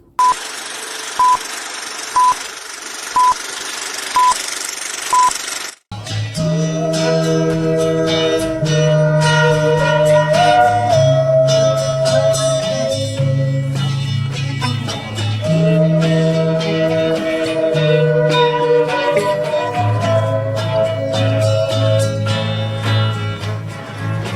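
A synthesizer channel intro jingle opens with a run of beeping tones, then swells into a loud, sustained synth melody with shifting held notes and bright layered chords.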